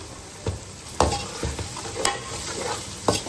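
Ground cumin, coriander and black pepper frying and being stirred in a pan for chana pulao, with close sizzling and several sharp scraping stirs at a loose, uneven rhythm.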